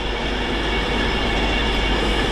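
A Class 390 Pendolino on a Liverpool Lime Street to London Euston service rushes past on the West Coast Main Line at Stafford, a loud, close, sustained roar of wheels and rails with faint clatter and no voices.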